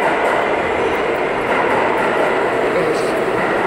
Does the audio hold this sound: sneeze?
no